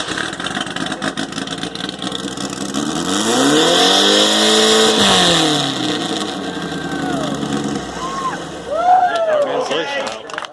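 A Volkswagen Beetle engine at an engine sound contest revs up loudly, holds a roaring peak and falls away, with crowd voices and chatter throughout and a sharp blip of revving near the end.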